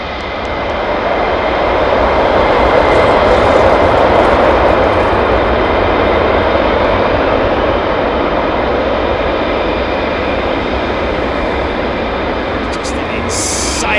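An F-22 Raptor fighter jet firing up its engines on a runway, a loud, sustained broadband roar that swells over the first few seconds and holds steady, with a high hiss on top and a brief burst of other noise near the end.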